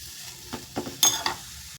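Carrots fry in a hot pan for a tempering, giving a quiet sizzle broken by a few short stirring scrapes and a brief clatter before it cuts off.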